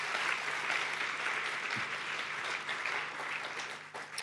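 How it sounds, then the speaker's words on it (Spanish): A church congregation at a family congress applauds steadily and fairly loudly, a dense wash of hand claps holding even for a few seconds before tapering slightly at the end. "Y aplaudile fuerte al Señor por esto"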